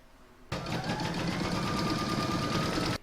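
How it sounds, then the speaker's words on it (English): A domestic sewing machine stitches a quilted fabric canning jar cover, starting abruptly and running at a fast, even mechanical rattle for about two and a half seconds before stopping, close and clear with no talking. "I'm going to pop that into my machine and stitch round number 3"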